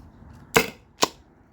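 A Byrna SD launcher fitted with a KMotor adapter firing, two sharp pops about half a second apart, close and loud with quick decay.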